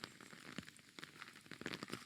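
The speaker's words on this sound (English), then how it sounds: "Maybe because it's raining." Rain falls in a quiet forest and patters softly on leaves and the ground, with scattered close drops ticking irregularly over a faint continuous hiss. No other sound stands out.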